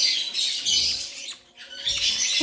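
Shrill, high-pitched lovebird squawks and chatter come in rapid, overlapping bursts up close, with a short dip in the middle.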